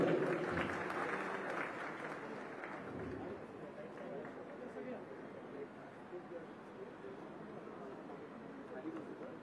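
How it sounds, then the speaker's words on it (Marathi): Loud, sustained applause from an audience at an inauguration ceremony for the Mumbai Dabbawala international experience centre, continuous dense clapping that fills the whole stretch and eases only slightly toward the end. "जोरदार टाळ्या वाजवायच्या"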